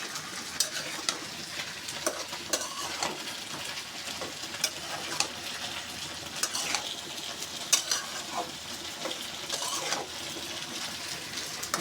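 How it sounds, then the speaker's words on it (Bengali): Bitter gourd, potato and prawn curry sautéing in a pan, with continuous sizzling and frying under repeated scraping and stirring strokes, close and steady with no talk. "এখন আমি তরকারিটা সুন্দর করে কষিয়ে নেব।"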